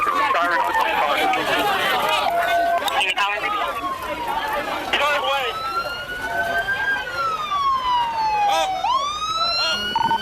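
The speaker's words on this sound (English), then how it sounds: "an ambulance finally arrives on the scene" An ambulance siren arrives at a nightclub shooting scene, its wailing sweeps rising and falling amid chaotic shouting and running, with a second yelping siren tone joining near the end.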